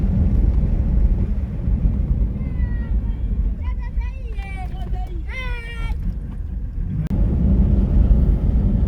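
A car drives along a deteriorated rocky, potholed road in rural Lesotho, giving a steady, loud low rumble of engine and tyres throughout, with a voice speaking over it partway through.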